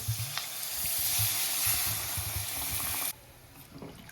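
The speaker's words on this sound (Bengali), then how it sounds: "আলুগুলো দিয়ে দেবো এবার জল দিয়ে দেব" Water pours onto potatoes in a hot pan for aloor dum, producing a loud, rushing sizzle that runs for about three seconds, then drops sharply to a quieter simmer.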